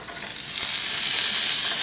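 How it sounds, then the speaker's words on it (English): Greens being mixed into a sizzling stuffed zucchini filling in a hot pan, a steady loud frying hiss that swells slightly as the food is stirred, with no talking. "I'm going to begin just kind of mixing this all in here"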